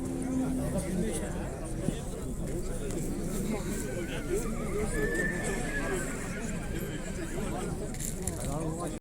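A young horse whinnies amid the busy hubbub of a livestock market, its call rising over a steady wash of crowd noise and nearby talk.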